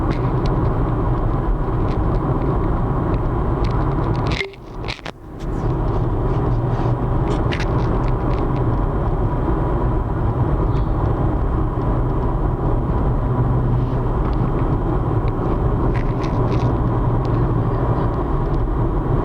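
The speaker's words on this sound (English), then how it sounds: "So we gotta show the car going home." A 2016 Ford Fiesta cruising along a road, its steady engine drone and tire roar continuous and close from inside the cabin, with one brief dip in noise about a quarter of the way through.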